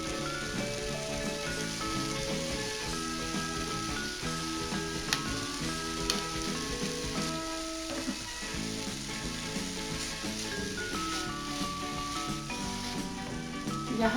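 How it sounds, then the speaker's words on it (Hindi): Nuts roasting in oil within carrot halwa on a medium flame, a steady soft sizzle and crackle running continuously with faint stirring scrapes and no voices. "अभी इसे थोड़ी देर भून के इसमें मैं नट्स डालूंगी।"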